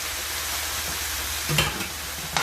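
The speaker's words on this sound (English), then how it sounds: "I'm going to add 2 to 3 ladles of tomato sauce." Ladles of tomato sauce go into a hot pan for a homemade meat lasagna, bringing a steady close sizzle and frying hiss, with a couple of brief splashy stirs and scrapes near the end.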